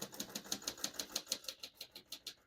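Rapid keystrokes on a 1943 Royal Quiet De Luxe vintage portable typewriter, a close, even series of about a dozen crisp mechanical clacks at a steady rhythm, fading slightly at the end.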